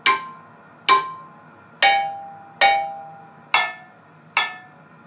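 Six drinking glasses holding different amounts of water are struck one at a time at a steady pace, each giving a bright, clear ping that rings and fades at a slightly different pitch, close and alone.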